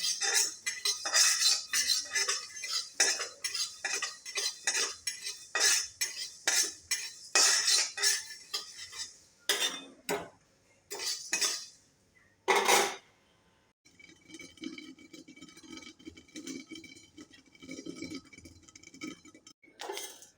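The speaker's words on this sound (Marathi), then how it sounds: "लोखंडी कढईमध्ये छान होतात ज्वारी लाह्या" Sorghum grains are popped and stirred in an iron wok, giving rapid close metallic scraping and clinking strokes in an uneven rhythm, then a quieter stretch of faint rattling.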